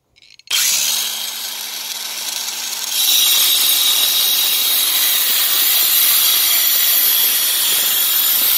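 A Sturm AG9020CL cordless angle grinder running on a 12-volt battery with a wood cutting disc spins up with a high whine, then bites into wood for a loud, steady, harsh grinding cut.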